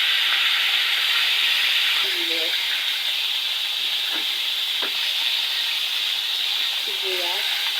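Oil sizzles and fries steadily in a pan while browning ingredients for a chicken patola misua soup, a constant loud hiss throughout, with a few brief clinks and a voice speaking lightly over it.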